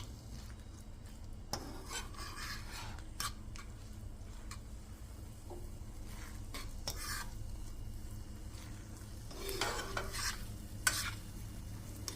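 A veggie egg scramble cooks in a pan over raised heat, a faint, steady sizzle under intermittent soft scraping and rubbing stirs with a few clinks, no voices.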